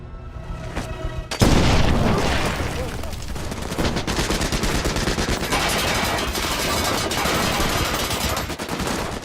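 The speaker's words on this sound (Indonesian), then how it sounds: "Bruno pun menyuruh bawahannya yang bernama Wolf untuk menembak Atami" Gunfire in a war film against Nazi troops: a sudden loud blast, then sustained rapid bursts of shooting and booms, with faint voices mixed in.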